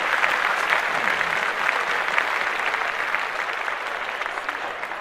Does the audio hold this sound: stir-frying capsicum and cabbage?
no